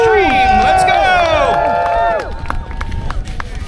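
A crowd at a ski resort dummy downhill event cheers and shouts loudly, with many overlapping whoops and rising yells that then thin into scattered voices and babble.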